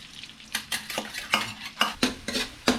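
Garlic frying in oil in a pan for chili garlic shrimp, a sizzle broken by about eight sharp scraping strokes of a utensil against the pan, no talking.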